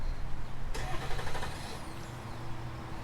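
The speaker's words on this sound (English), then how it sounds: "Let's go ahead and actually turn on the truck." A 2022/2023 GMC Sierra 1500 diesel pickup is started: a short, rough cranking burst turns into a steady low idle rumble, close by, with no talk.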